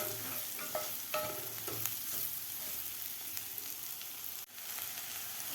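Spring onion being sautéed in a pan for mixed-vegetable khichdi, a soft steady sizzle under repeated spatula stirs and scrapes, fairly quiet and close.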